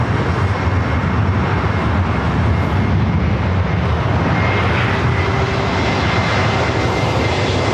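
A Spirit Airlines Airbus A321neo arriving from Newark at LAX gives off a loud, continuous jet engine roar that holds steady throughout.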